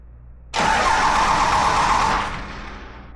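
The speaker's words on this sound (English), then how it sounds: "we can just turn the engine over to make sure there's no catastrophic sounds" A rig's engine is cranked over with the ignition off, giving a loud, steady whirring burst that lasts under two seconds before dropping away to a quieter tail; no one speaks.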